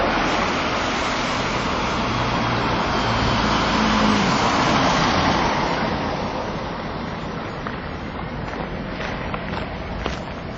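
Traffic on an A-class trunk road running through a small Scottish village, a vehicle rushing past loudly up close and then fading away, leaving a steady road roar.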